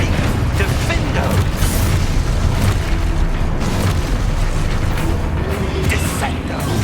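Spell explosions in the video game Hogwarts Legacy, a dense run of loud booms, bursts and impacts over continuous battle noise, with a voice shouting spell names throughout.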